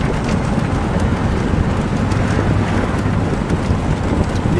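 A yellow 1966 Ford Fairlane GTA convertible with a 390 V8 cruises smoothly, its low engine drone steady beneath heavy wind rush from the open top, loud and continuous throughout.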